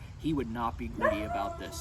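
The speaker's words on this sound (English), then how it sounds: "Sorry, that's my dog." A pet dog barks and yips in short bursts close by indoors, mixed in with someone talking steadily over it.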